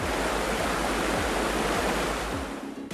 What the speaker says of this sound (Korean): 얼음장 같은 계곡물이 흐르는 용대 자연휴양림